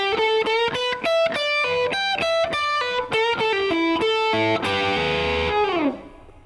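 Distorted electric guitar plays a blues shuffle lick, a quick run of picked notes and slides ending on a bent, sustained note that fades out, loud and close with no voice.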